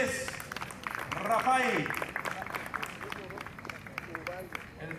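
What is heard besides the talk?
audience applause at auction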